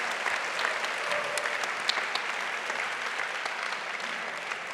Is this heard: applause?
yes